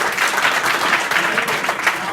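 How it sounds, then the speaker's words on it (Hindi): Schoolchildren clapping in a classroom at a village school, a dense, continuous burst of applause from many small hands, close and fairly loud throughout, with no voices over it. "उसके लिए ताली बजाओ।"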